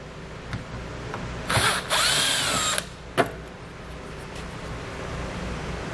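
A power driver backs out a T15 screw from the front fascia of a 2016 Buick Envision, one loud close whirring burst of about a second, then a brief click and a sharp tap against steady background hum.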